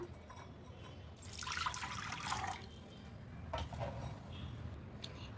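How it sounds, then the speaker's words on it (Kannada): Melted jaggery water being strained into a bowl for a summer cooler, heard as a faint, close stream of pouring liquid with dripping, rising and tapering off in two short spurts. "ಇವಾಗ ಇದನ್ನು ಒಂದು ಬಟ್ಲಿಗೆ ಶೋಧಿಸ್ಕೊಳ್ಳೋಣ"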